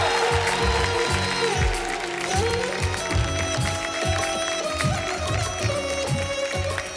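A studio audience applauds and cheers on a television comedy show as a singer is welcomed, sustained clapping under stage music with a busy, rhythmic texture.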